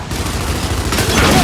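Boomshot grenade launcher fire in the video game Gears 5, a dense continuous barrage of loud booming blasts over 1.4 seconds, with a faint voice mixed in.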